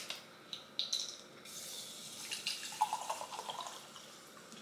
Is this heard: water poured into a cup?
yes